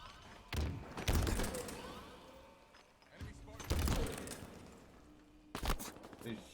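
Halo match with loud bursts of gunfire and grenade blasts at about 0.5, 1, 3.7 and 5.6 seconds, separated by quieter stretches with faint game sounds while players talk over the action.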